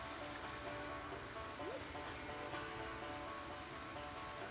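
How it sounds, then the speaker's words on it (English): A steady, even rush of a small waterfall fills the clip without pause, soft and continuous, nearby on Vancouver Island, with no voices. "We're hanging out at a little waterfall."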